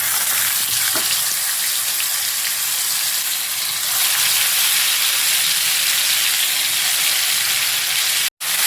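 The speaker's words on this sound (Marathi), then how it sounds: "तेल आपलं गरम झालेलं आहे, टाकायचं वाटण आपण याच्यामध्ये ओतून घेऊया" Ground masala paste for Kolhapuri kharda chicken poured into hot oil in a pan, a loud, dense, continuous sizzle that swells slightly midway and holds steady, close up, with a brief cut near the end.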